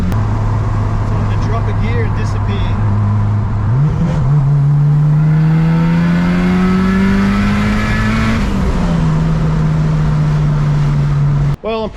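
A turbocharged B18C Honda Integra on the street drops a gear with a quick rev blip, then pulls hard with a rising, droning engine note and turbo whine, loud and continuous from inside the car.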